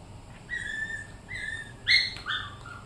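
Choco the dog gives a few high, thin whines or yips in short separate bursts over a quiet room hum, with no voices.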